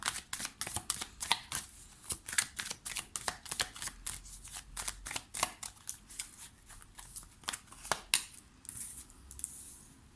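A deck of tarot cards is shuffled and drawn in a rapid run of crisp riffling and slapping card sounds, close and fairly loud, with no talking.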